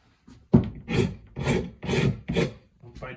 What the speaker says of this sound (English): I go ahead and typically pull off some of the old gunky paint